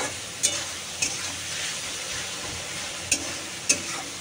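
Spice paste fries in a pan for minced-meat ghugni, a constant soft sizzle with a few sharp metallic spatula taps spaced apart, close and moderately quiet, no speech.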